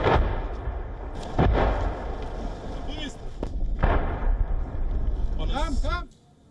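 Artillery shelling in Donbas, eastern Ukraine, with soldiers on patrol: several heavy booming impacts ring out over a steady rumbling background, loud and close, before the sound cuts off abruptly.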